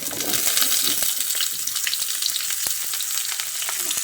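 Drumstick stalks and pumpkin fry in hot oil with potato and carrot for a Bengali mixed-vegetable curry, a loud continuous close sizzle dotted with crackles and light stirring taps throughout.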